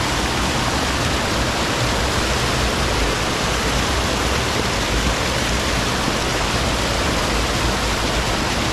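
Gray Spring, a drinking-water source putting out about 10,000 gallons a minute, gushes nearby as a loud, constant broadband roar of rushing water with no pauses or voices.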